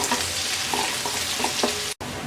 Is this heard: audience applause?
no